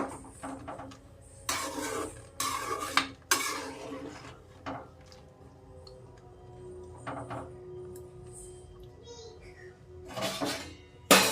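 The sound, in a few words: Stirring Maggi noodles in a pot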